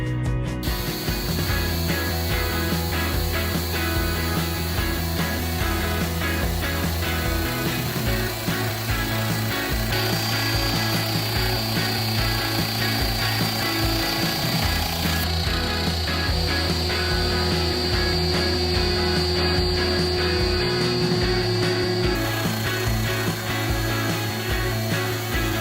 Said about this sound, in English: I settled on using my CNC machine to level it.